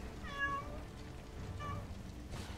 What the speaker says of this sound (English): is going ham over here with the meowing